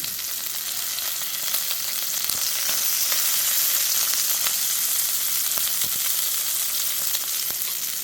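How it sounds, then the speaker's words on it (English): Duck breast sears in a hot pan, a loud, close, steady sizzle with fat crackling and spitting in small pops throughout, without any speech. "it's definitely going to start to get some fat splatter"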